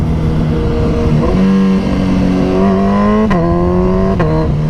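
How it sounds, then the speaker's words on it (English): A 2022 Suzuki Hayabusa motorcycle engine runs loud and close, its pitch dropping in steps as it downshifts, with two sharp automatic throttle blips at each gear change. "Hear the auto blip."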